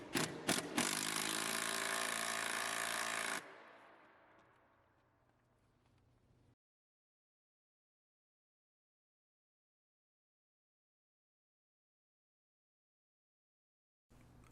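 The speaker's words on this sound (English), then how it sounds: "It's really nice to have the impact driver for this." A cordless impact driver fastening bolts on an industrial sewing machine table: a few sharp hammering bursts, then a steady whirring run that tails off, a long silence, and a brief burst at the end, all close by.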